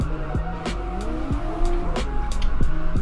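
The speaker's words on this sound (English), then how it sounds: "Some high speed drifting" A car drifting through a city in the racing game NFS Underground 2, tires squealing in long sliding whines over a droning engine that rises and falls with gear changes, loud and close, no talking.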